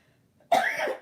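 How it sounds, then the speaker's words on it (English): One sharp, dry cough from a person with a dry throat, close and fairly loud, following a brief quiet pause with faint background. "let's see what we're going to do about this cough"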